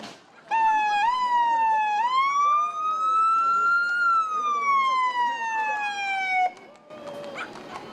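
An RCMP police car leads a street parade with its siren wailing loudly and nearby, one long rising and falling tone that cuts off near the end, followed by faint crowd noise.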